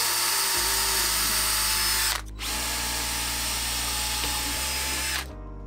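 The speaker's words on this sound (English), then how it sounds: "I'll just put one hole straight through." Power drill boring a hole straight through clamped plywood and MDF boards, a loud, sustained high whine close by that dips briefly in the middle and cuts off near the end.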